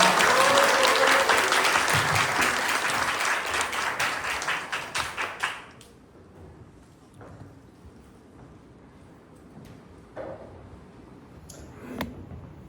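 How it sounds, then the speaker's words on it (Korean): A crowd at a redevelopment briefing session claps loudly for an arriving committee chairman, dense applause that thins and breaks off after about five seconds, followed by a quieter room with a few scattered claps and small noises. "큰 박수로 맞이해 주시기 바랍니다"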